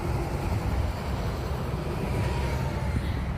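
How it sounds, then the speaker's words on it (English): Steady traffic rumbles across a bridge near the boardwalk under Panjim, Goa, a continuous low roar of passing vehicles at moderate distance with no voices. "You can hear the traffic over the bridge."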